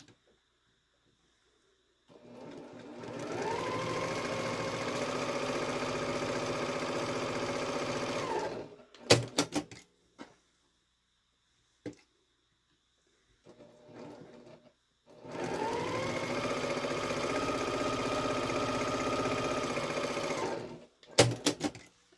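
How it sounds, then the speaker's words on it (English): A sewing machine runs in two long steady bursts of stitching a fabric strap, each several seconds, separated by brief clicks and quiet pauses. "bring it over here to my sewing machine and just sew 1/8 inch on either side of that strap"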